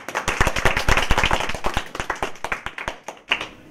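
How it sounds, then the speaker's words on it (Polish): An audience at a 2017 creative-talent audition claps for the award laureates, dense and loud at first, then thinning into scattered individual claps. "brawa."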